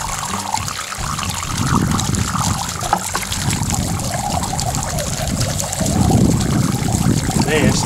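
Water gushes steadily through a rusty 1998 Honda GL1500C Valkyrie fuel tank as rust is flushed out, a loud continuous pouring and sloshing stream that swells near the end.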